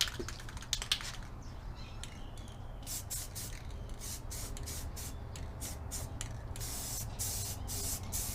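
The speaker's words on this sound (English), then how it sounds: "So we'll get that sprayed real quick so that it'll be dry tomorrow." An aerosol can sprays black paint onto a dash part for a 1965 Chevrolet C10, in short hissing bursts of varying length with brief pauses between, fairly quiet and close, with no talking.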